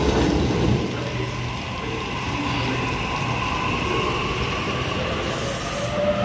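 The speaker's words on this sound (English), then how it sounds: "Anxiously waiting for the passing train to come through" A train passing a platform at Sydney's Central station, a loud continuous rumble of rolling wheels with faint high squeals near the end.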